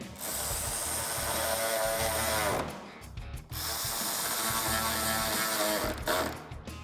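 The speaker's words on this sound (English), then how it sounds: "I can use my 10mm socket to reinstall the 2 bolts at the top of the bumper." A 10mm socket ratchet tightens the two upper bumper bolts on a 2005-2009 Mustang GT, giving a loud, steady run of ratcheting clicks with a brief pause partway through.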